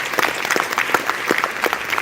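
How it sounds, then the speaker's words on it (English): Audience applause fills a conference closing plenary hall, a steady dense clapping from many hands that carries evenly through the whole stretch without voices. "can we have a round of applause for the awards committee and the work they do?"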